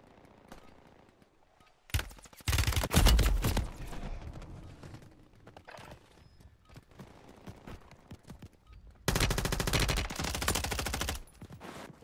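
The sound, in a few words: gunfire from a video game gun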